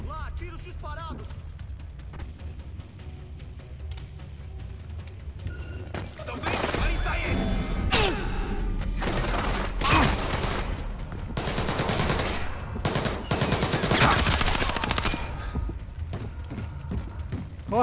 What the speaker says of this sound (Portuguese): Lá, tiros disparados!